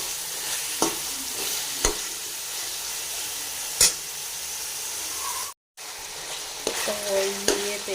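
About half a kilo of boneless chicken is stir-fried in a pan for Chinese kababs, giving a loud, steady sizzle with occasional sharp clinks of stirring and one brief cut to silence.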